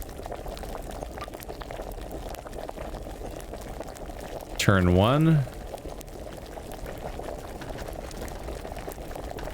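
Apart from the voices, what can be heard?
bubbling alchemy brew in video game Kingdom Come: Deliverance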